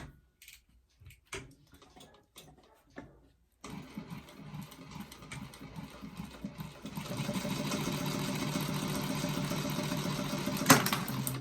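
A sewing machine sews a bag lining onto Peltex stabiliser: a few quiet handling sounds first, then the motor starts and runs steadily, growing louder and denser in the last seconds, with no one talking.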